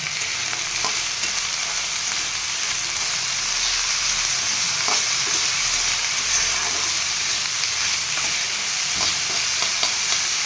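Soybean chunks fry with garlic, onion and tomato for vegetable rice, giving a steady close sizzle with occasional stirring scrapes throughout, no talking.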